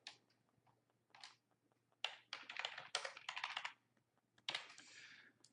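Quiet, close typing on a computer keyboard while editing web page text, coming in short irregular bursts of soft key clicks separated by pauses, with no talk.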